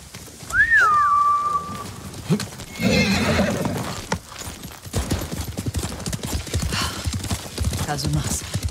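A horse in the Ghost of Tsushima video game lets out a clear whinny near the start, followed by steady clip-clop of hooves while riding, with breathy snorts and game sound effects continuing throughout.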